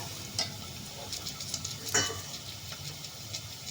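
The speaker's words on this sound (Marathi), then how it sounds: "कढीपत्ता, तेही छान परतून घेऊया।" Bay leaf and curry leaves sautéing in hot oil after garlic, a soft crackling sizzle broken by a few spoon scrapes and clicks against the pan, with no talking.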